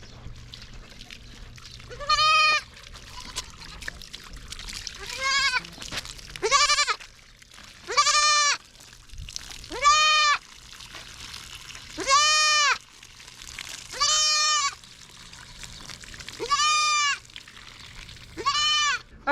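Goats being readied for a show bleat repeatedly and loudly, nine drawn-out wavering cries spaced a couple of seconds apart, close by, with faint background noise between calls.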